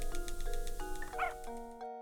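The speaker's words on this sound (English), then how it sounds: "Good, robot doggy." A robot dog in the Professor Layton and the Curious Village video game lets out a few short electronic yips and barks over a soft, steady game music background.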